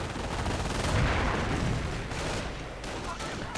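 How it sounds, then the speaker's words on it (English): Distant machine-gun fire and scattered explosions rumble through a World War II real-time strategy battle, a dense, continuous crackle of rapid bursts that stays fairly faint with no clear single shots. "Rifleman getting stopped by all the MG fire"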